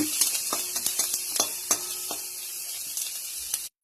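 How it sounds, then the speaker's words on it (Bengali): Nigella seeds and fennel seeds sizzle in hot white cooking oil while being stirred, a bright steady frying hiss with scattered scrapes and taps of the spoon, close up, ending abruptly in silence. "দেব একটু কালো জিরা, মৌরি, নাড়াচাড়া করে নেব।"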